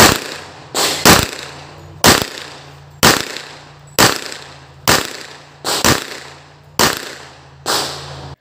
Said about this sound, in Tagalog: At ito ang unang putok ko.